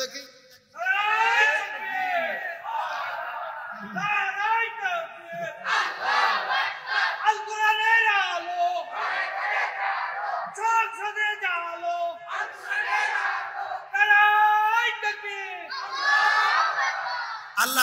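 A large crowd at an Islamic sermon gathering chants takbir in loud rhythmic unison, answering a preacher with repeated swelling shouts that rise and fall across several calls.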